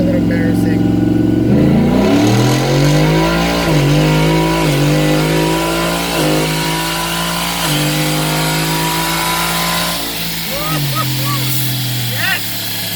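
A Ford F150 with a 10R80 transmission pulls hard in second gear on a dyno, its engine note climbing in repeated rising sweeps with brief dips between them. The engine is loud and close, with people talking over it.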